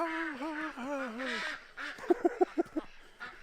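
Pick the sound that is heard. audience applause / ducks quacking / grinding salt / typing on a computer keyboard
ducks quacking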